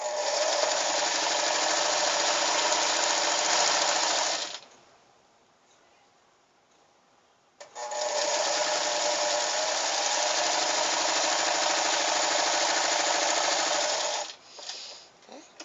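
Sewing machine stitching the side seams of a cloth rag doll, running in a steady, fast whirring burst for about four seconds, pausing in near silence, then running another long even burst before stopping with a few short taps.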